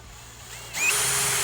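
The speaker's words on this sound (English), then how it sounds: "I'm drilling through my top here and down into the center of my 2x4" Power drill boring a pilot hole through a hardwood oak top into a 2x4, a short whirring start that quickly rises to a steady, loud drilling whine.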